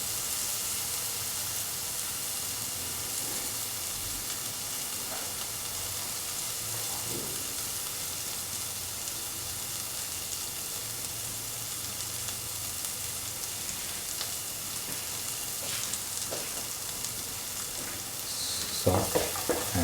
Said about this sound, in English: Let the shallots and the green chili and the garlic and the ginger get heated in the oil for a time.